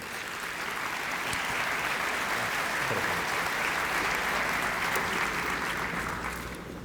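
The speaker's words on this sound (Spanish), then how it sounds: "Vamos a recibir al doctor Urbina con muy fuertes palmas en estos momentos." A large audience at a radar-engineering lecture breaks into sustained, loud applause welcoming the speaker, steady and dense from start to finish without any talk over it.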